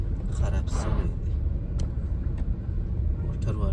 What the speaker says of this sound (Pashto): موټر والا څونه تیز را روان و جمپ یې نه لیدی